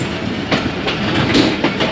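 A train pulls away from Khariyan Cantonment station, the 101UP Subk Raftar bound for Lahore, with a steady loud rumble of rolling wagons and rhythmic clickety-clack of wheels over rail joints throughout, heard from on board.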